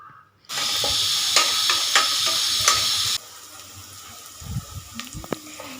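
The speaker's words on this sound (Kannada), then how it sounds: "ನಂತರ 1 ಈರುಳ್ಳಿ ಹಾಗೆ 1 ಹಸಿಮೆಣಸು ಹಾಕಿ ಚೆನ್ನಾಗಿ ಫ್ರೈ ಮಾಡಬೇಕು." Onion and green chili fry in hot oil with whole peppercorns and a bay leaf for mutton leg soup. A loud, close sizzle roars for a few seconds, then drops to a quieter hiss with light clatter.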